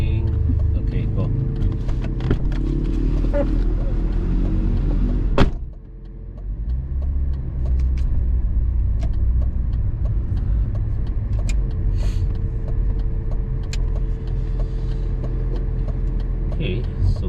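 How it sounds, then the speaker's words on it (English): Several cars moving along a road, a steady rumble of passing vehicle engines that holds close and loud for the whole stretch, with a short dip partway through, and a voice speaking over it. "Okay, so many cars coming out."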